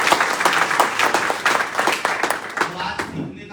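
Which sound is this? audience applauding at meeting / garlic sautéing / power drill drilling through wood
audience applauding at meeting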